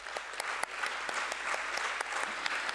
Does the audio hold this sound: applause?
yes